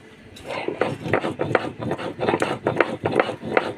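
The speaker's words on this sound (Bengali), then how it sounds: "কাঁচা জিরে আদা কয়েকটা কাঁচা মরিচ কয়েকটা শুকনো মরিচ একটু জল দিয়ে সুন্দর করে বেটে নেব" Cumin, ginger, and green and dried chillies ground with a little water into paste on a stone slab, giving steady rhythmic scraping and rubbing strokes, close and moderately loud, with no talking.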